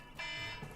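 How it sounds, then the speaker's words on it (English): An electronic alarm going off during a game, a single sustained tonal beep ringing steadily and fairly loud for under a second. "Cut my alarm off."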